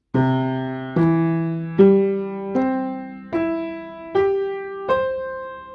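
Seven piano chords struck one after another at a steady pace, each decaying quickly with no pedal sustain, played alone.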